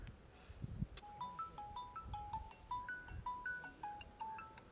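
A mobile phone rings with a repeating melodic ringtone, a short bright pattern of tones cycling several times at moderate volume, with faint background noise underneath.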